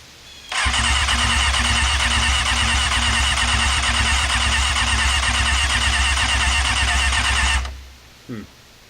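A 1998 Kawasaki ZX6R motorcycle engine cranks on the starter without catching, a loud steady churning that runs for about seven seconds and then stops, followed by a brief faint sound.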